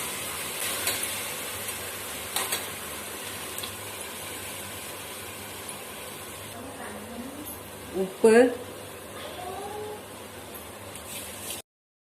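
Soft, steady sizzle of halved and blended tomatoes frying in a pan for fish biryani, quiet and continuous, with a brief clatter of stirring near the end and a voice speaking over it.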